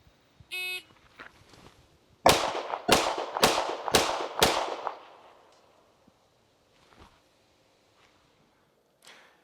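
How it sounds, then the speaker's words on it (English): Five sharp pistol gunshots fired in quick succession at a target range from the Weaver stance with a thumbs-forward grip, loud and close, each crack trailing into a brief echo, followed by faint quiet clicks. "how things went when I was firing the 5 consecutive shots"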